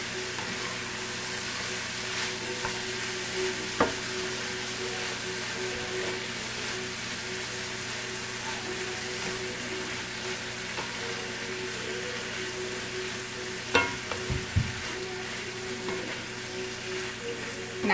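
Cabbage sizzles and crackles steadily in hot bacon grease in a pan, a close, continuous frying hiss broken by a few sharp clatters of stirring.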